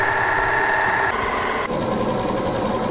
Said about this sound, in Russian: Все, оверлок готов к работе, поехали!